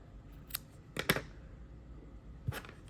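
Scissors snip through crochet yarn while finishing an amigurumi whale, giving a few brief, quiet cuts spread apart over a soft room background.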